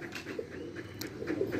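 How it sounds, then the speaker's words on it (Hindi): Pigeons coo softly around a house rooftop, a few low murmuring calls over a steady outdoor background with no talking. "वहीं उसके घर के ऊपर से ही घूम के आ रहे हैं कबूतर"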